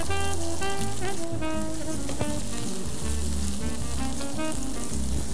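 Onions added to hot oil with torn red chili sizzle and crackle steadily throughout, a dense frying hiss with background music playing over it and no speech.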